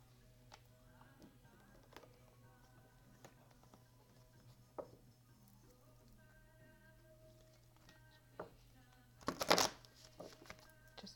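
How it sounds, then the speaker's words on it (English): Tarot cards are shuffled by hand in a quiet room, giving soft riffling and scattered light ticks over a low hum. A sharper, louder flurry of card noise comes near the end. "Just one more shuffle."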